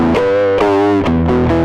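Scream distortion effect on a sustained tone, the low-pass filter cutoff after the drive raised so it turns brighter; thick buzzing harmonics with a few re-struck notes, loud and steady, no talk.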